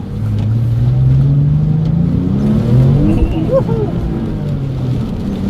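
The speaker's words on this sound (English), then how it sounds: "We got a lot of wheel spin." A Porsche 911 (996) Turbo engine drones and revs steadily up close, with a brief squeal of tire wheelspin partway through while negotiating tight hairpins.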